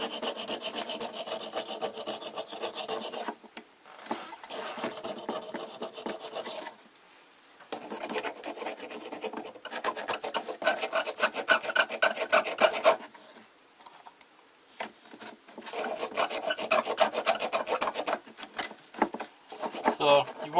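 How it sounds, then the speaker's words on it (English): Mineral scale being scraped off a hot air humidifier: close, dry rasping strokes in repeated bursts separated by short quieter pauses. "scrape it with your fingernail"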